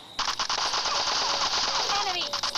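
Rapid automatic gunfire in PUBG Mobile Lite, one continuous loud burst of machine-gun fire lasting over two seconds, close and dense.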